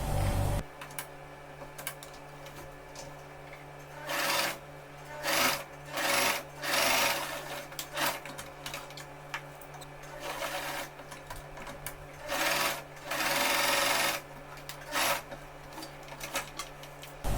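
A sewing machine runs in repeated short bursts while stitching down the pleats of a homemade fabric face mask, close and steady with brief pauses between runs.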